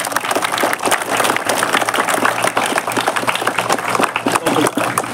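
An audience at a school Independence Day cultural program at Heritage Academy claps as a guest arrives. The continuous crackle of many hands carries a few voices mixed in underneath.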